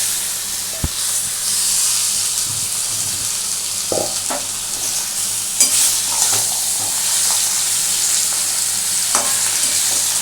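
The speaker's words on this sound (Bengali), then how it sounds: "এই মাংসটা এখন আমি ভালো করে কষবো।" Mutton being stirred and fried in a pan, a loud continuous sizzle and hiss with occasional scrapes and knocks of the spoon against the pan, close up and without talk.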